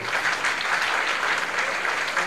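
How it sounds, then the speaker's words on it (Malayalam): Sustained applause from an audience of young people fills the hall, a thick steady roar of many hands clapping at constant loudness for the full stretch. "ഈ കയ്യടികൾ തന്നെയാണ് ഒരു കലാകാരനെ മുന്നോട്ട് നയിക്കാൻ പ്രേരിപ്പിക്കുന്ന ഘടകമെന്ന്"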